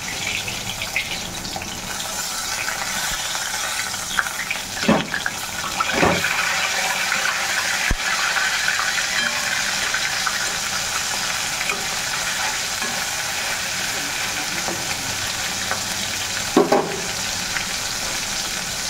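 Fish frying in hot oil gives a continuous, fairly loud sizzle with a few louder spits and crackles scattered through it. No one talks.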